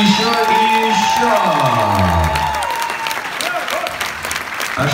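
Audience applause in a concert hall, dense steady clapping from a large crowd lasting throughout, with a sung or spoken voice over it at first and a few scattered whoops.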